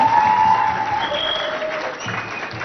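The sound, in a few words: audience applause after poem recital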